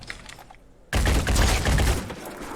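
Pistol shots in the video game Phoenix Point break out after a quiet opening: a sudden, loud, dense volley of rapid gunfire that carries on steadily to the end.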